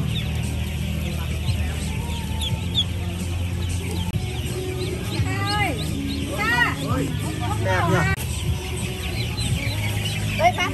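Chickens cluck and a rooster calls repeatedly at a busy village market in Đông Sơn, Vietnam, with steady crowd chatter and people talking nearby throughout.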